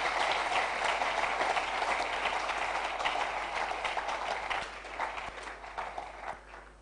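Live audience applause at a roadshow event, dense and sustained clapping that holds steady for several seconds, then thins out and fades toward the end, with no talking over it.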